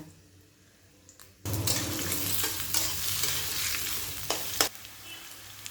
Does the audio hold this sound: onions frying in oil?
yes